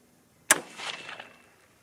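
A single sharp rifle shot from a .243 Win or 6mm ARC firing an 80-grain bullet cracks once and then rolls off into a short fading echo, alone against quiet surroundings.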